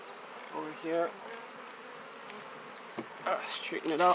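A captured wild honey bee swarm buzzes around a beehive in Hawaii. The insect hum is steady and soft and runs beneath someone speaking briefly.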